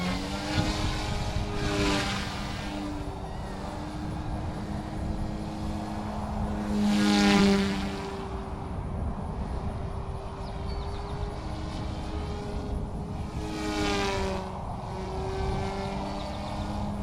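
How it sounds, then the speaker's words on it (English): A Blade Infusion 180 micro RC helicopter spools up and flies, its steady rotor whine and buzzing tones holding throughout and swelling in three passes as it comes closer. "Such a great little helicopter."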